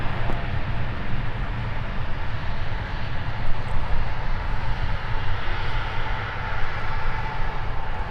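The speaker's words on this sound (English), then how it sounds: "I think our A220 landing with a little bit of what we call a spine tingler" An Airbus A220 airliner lands at Minneapolis airport, a steady, loud engine roar and rumble that holds through the whole stretch without voices.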